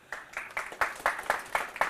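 Eight evenly spaced claps in a steady rhythm, crisp and fairly close, like a small group clapping in unison.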